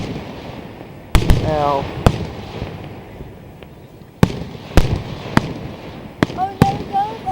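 Fireworks burst at the 2011 Ambler display: sharp, loud booms at irregular intervals, some followed by crackling, with nearby spectators exclaiming and talking between the blasts.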